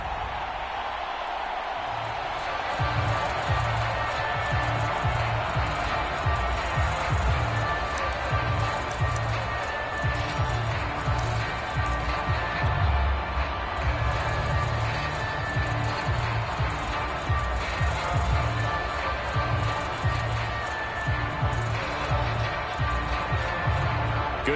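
A stadium crowd in an American football video game keeps up a continuous roar and rumble beneath a play-by-play commentator's voice, steady and fairly loud throughout.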